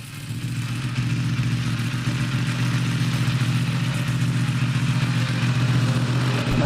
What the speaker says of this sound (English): Cold start R1M with the new MT Race full titanium grade 1 top quality Japanese exhaust.